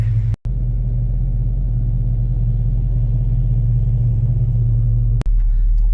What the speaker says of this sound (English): We're hitting the road in the Caprice.